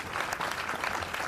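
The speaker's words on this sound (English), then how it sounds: "I'm about to applaud this." A short burst of hand-clapping applause from a small group breaks out on a Long Island radio talk show. It is brief and fairly faint.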